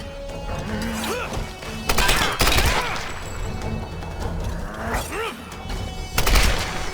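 Game combat in Tomb Raider 2013 during a fight with a heavy enemy: loud gunshots, impacts and thuds in irregular bursts, with sharp bangs near two, five and six seconds over steady background noise.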